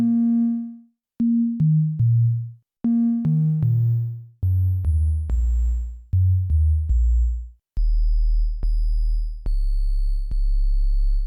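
Pure sine tones from a 40-year-old synthesizer's wavetable in PPG mode, played as a sequence of separate notes with clean attacks and decays, starting mid-pitch and moving lower, with no other sounds.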